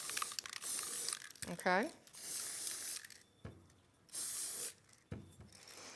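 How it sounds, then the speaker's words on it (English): Spray can, shaken well beforehand, sprayed inside a craft item: several bursts of broad hissing spray separated by pauses, close and fairly loud, with a person talking in between. "I've shaken it up well, and then you're going to spray it inside"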